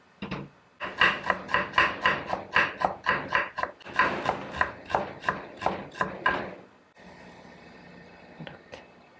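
Carrots being chopped on a cutting board with a knife as a garnish for steamed yam, a fast steady run of about twenty crisp close knife strikes, then quiet handling sounds.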